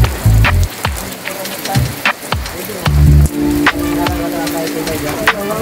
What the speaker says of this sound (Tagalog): Baka lalo pang lumakas ang ulan